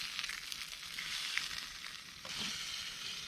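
Cheese, leftover fat and mushrooms sizzle together in a pan over a campfire, giving a steady close frying hiss with faint crackle throughout, no one speaking.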